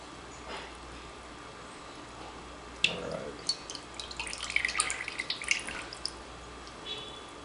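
Espresso drips off soaked ladyfingers during tiramisu making, faint at first, then a cluster of small close wet drips and splats in the second half.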